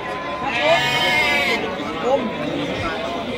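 Sheep bleat repeatedly at the Wage Bumayu livestock market, where Garut horned sheep are kept. The calls are loud and close, heard over a steady murmur of market crowd chatter.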